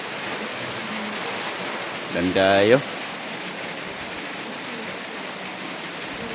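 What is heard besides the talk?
rain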